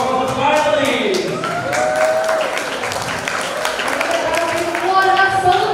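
Audience applause for the finalists of a junior high school English speech contest in Banyuwangi, a steady wash of clapping running the whole time with a voice talking over it.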